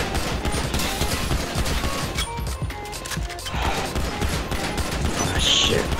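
Grand Theft Auto video game gunfire sounds as a continuous, loud volley of rapid shots mixed with crashes, filling the whole stretch with little letup.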